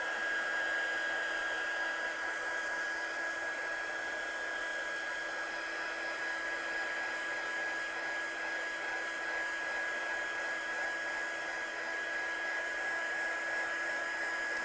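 A heat tool or dryer blows steadily and loudly for the whole stretch while drying a heat-embossed craft frame, an even close-up whir with a constant high whine and no voices.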